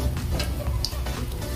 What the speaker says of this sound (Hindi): अब इसके अंदर हम 1/2 चम्मच जीरा डालेंगे। इसके बाद हम 3 से 4 तेज पत्ते डालेंगे।